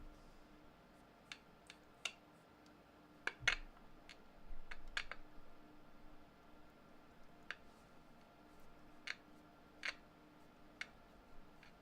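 Faint clicking from an AWA transistor pocket radio from the late 1960s, sparse sharp ticks at irregular intervals over a low steady hum, with a brief rustle of handling.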